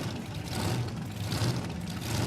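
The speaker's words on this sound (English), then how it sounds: "Don't you love the sound of a blown engine screaming in the burnout pad?" Supercharged drag racing engine running loud and steady on the burnout pad at Warwick Dragway, a continuous low, rough roar with no talk over it.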